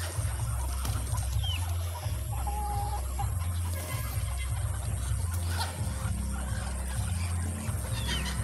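Chickens cluck and chatter at a rural provincial yard, several birds close by with overlapping calls, over a low pulsing background hum and a few faint distant bird sounds.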